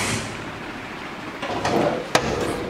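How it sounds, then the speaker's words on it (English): Hood of a 1966 Pontiac GTO with a 400 cubic inch engine being opened, a muffled metallic shuffle building to one sharp clunk of the latch near the end, heard close with no talk. "Open the hood up here for you so you can check that out."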